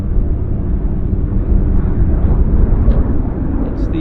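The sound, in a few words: de Havilland Turbine Otter floatplane departing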